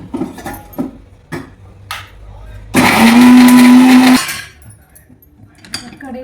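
A mixer grinder grinds roasted masala for a prawn dish in a village kitchen. It roars loudly for about a second and a half, with quieter clinks and handling knocks before and after.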